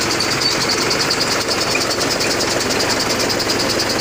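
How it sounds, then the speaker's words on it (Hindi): Steady loud mechanical drone of a compressor lapping machine driven by a Mahindra tractor engine, with constant rhythmic chugging and vibration throughout and no talk. "ये कंप्रेसर लेपिंग चल रहा है।"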